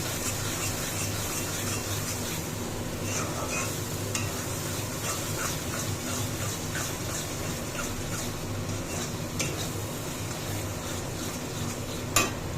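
Meat fries with spices in a pan while being stirred, a steady close sizzle layered with repeated scraping strokes and light clinks, ending with a sharper tap.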